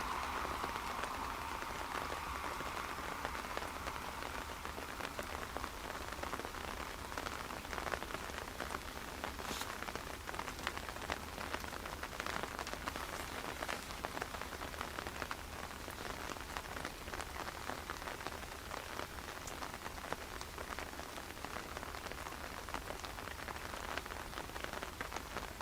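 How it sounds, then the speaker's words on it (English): Rain patters continuously on an umbrella outdoors at Dublin Airport, a dense, even drumming of drops close overhead that stays steady for the whole stretch. "Rain has started again, as you can probably hear,"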